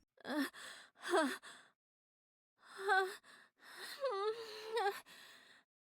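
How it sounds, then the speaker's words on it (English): A woman in the video game Kimochii Classroom breathes heavily and gasps in sharp, shaky bursts, two quick gasps followed by a pause and then longer trembling, voiced breaths, close and fairly loud with no talking. "she starts breathing heavily"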